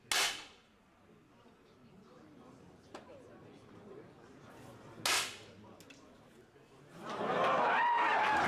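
Sharp, close shots from 10 m air pistols ring out singly, spaced seconds apart, during a women's World Cup final in Munich, with a quiet hall murmur between them and a swell of crowd noise at the end.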